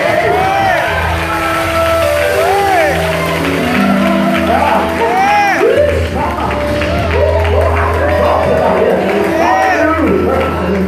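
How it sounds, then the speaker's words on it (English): A church congregation claps, shouts and whoops, a loud, dense crowd roar that holds for about eleven seconds with voices calling out throughout. "We can live this with a clap your hands and shout, glory."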